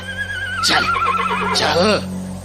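A horse neighs loudly in two drawn-out whinnies in a night horror story cartoon, the calls close and clear over a steady low background hum.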